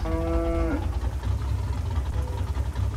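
A cow in the Euro Truck Simulator 2 video game lets out a short, clear moo at the very start, then fades under a constant low engine-like rumble and hiss for the rest of the clip.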